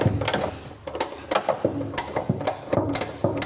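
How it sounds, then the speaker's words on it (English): Ratchet handle winding up a car jack to lift a motorhome, a steady run of repeated clicks and knocks in an uneven rhythm, close and fairly loud. "we do by winding the jack up with the ratchet handle"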